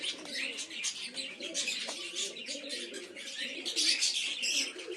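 Pigeons, big-sized birds in a Kaldoma loft collection, coo in soft overlapping bursts close by, with chirps and rustling throughout and no voices.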